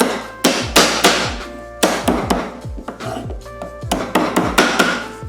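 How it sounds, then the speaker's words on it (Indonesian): Garlic cloves are crushed on a board with a heavy utensil while cooking black fried rice: a series of sharp, loud, close thuds in uneven clusters, alone without speech. "sekarang kita geprek bawang putihnya dulu"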